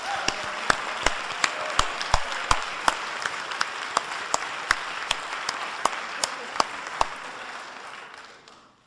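Steady applause from an audience honouring Professor Levine after a talk, with sharp individual claps standing out over a dense wash of clapping that gradually thins and fades toward the end.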